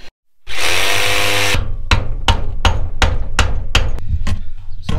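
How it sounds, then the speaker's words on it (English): Hammer and chisel smashing old aluminium on a boat: a burst of loud grinding or cutting noise, then a steady run of about nine sharp metallic impacts in a fairly even rhythm, close and loud. "just hitting it with a hammer and a chisel and just smashing it to pieces"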